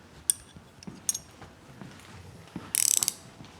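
A ratchet clicking as it tightens the rear steer on a rock buggy, a few scattered clicks then a quick, close run of rapid metallic ratcheting at the end, faint overall.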